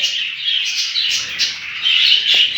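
Canaries in a breeding room chirp and trill continuously in a dense, bright chorus of overlapping tweets, fairly loud and close, with no voices.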